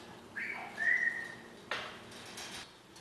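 A pet green Amazon parrot whistling indoors, a couple of clear, sliding high whistles close by followed by a sharp click, with quiet room sound between.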